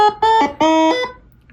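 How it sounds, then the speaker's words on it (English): An Arturia MicroBrute analog synthesizer plays three short buzzy, harmonic-rich notes in quick succession, loud and close, the last one held before fading out alone. "Now we tested a MicroBrute analog synthesizer and we have no clue what it does."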